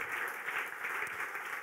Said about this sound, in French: est-ce que tu peux applaudir l'Éternel?